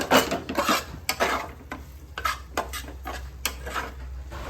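Fish patty mixture of mashed potato worked in a bowl, close clattering scrapes and knocks of a utensil against the dish in quick irregular bursts.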